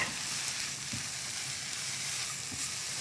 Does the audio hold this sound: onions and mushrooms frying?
yes